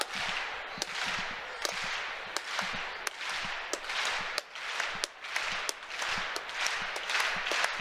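Crowd of teammates clapping in a steady rhythmic beat to support a high jumper at a university track and field championship, sharp claps repeating about every second over a busy indoor arena hum.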